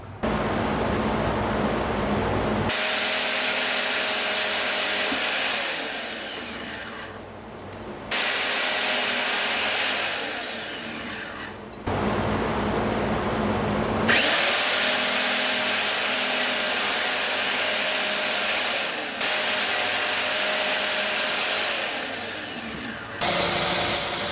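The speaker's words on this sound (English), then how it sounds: "I'm gonna take it to the bandsaw, and I'm just gonna cut along that edge." A bandsaw cuts metal along an edge during a buggy build, its loud broadband whine running in long bursts that start and stop abruptly several times, with brief pauses between passes.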